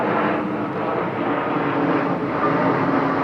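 A broad, steady roar of an airplane passing overhead, a continuous rumbling engine drone that stays loud throughout with no talking.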